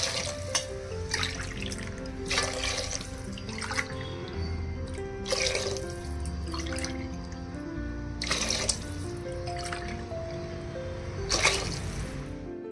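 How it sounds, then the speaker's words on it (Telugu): Water pouring and splashing into a vessel of rice for vegetable pulao, a continuous running gush with surges and a few drips, close and fairly loud, with no talk. "ఇప్పుడు బియ్యానికి సరిపడే అన్ని వాటర్ యాడ్ చేసుకోవాలి"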